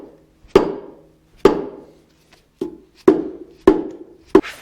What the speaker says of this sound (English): hopefully this whole thing should just slide out on the dolly once I start hammering on it